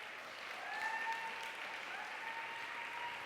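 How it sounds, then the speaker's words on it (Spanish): A church congregation claps for Jesus during a sermon, a steady, even wash of applause heard from some distance and fairly faint, with no talking. "Dale un aplauso a Jesús"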